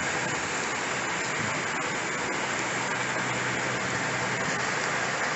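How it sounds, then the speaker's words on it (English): Wildfire near Shaver Lake, California, burning in a strong south-to-north wind as it runs back up a hillside; a dense, steady roar like rushing wind and crackling flames, loud and continuous throughout with no voices. "This fire is literally blowing back up the hill."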